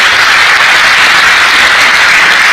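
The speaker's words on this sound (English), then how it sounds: "I think so we deserve a round of applause for those energetic words." A convention audience at the Taj Cidade de Goa in Goa applauds, a dense, steady wash of many hands clapping loudly and continuously throughout, with no voices on top.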